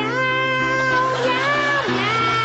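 A voice imitates a cat's drawn-out meow, a single wavering, nasal cry held for a couple of seconds.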